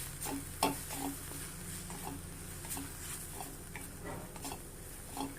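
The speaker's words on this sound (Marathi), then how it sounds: "हे मसाले एक मिनिटभर असे परतून घेऊया" Asafoetida and sambar masala being sautéed in a pan for methi dal tadka, with a steady soft sizzle and scattered spoon scrapes and taps against the pan, fairly quiet throughout.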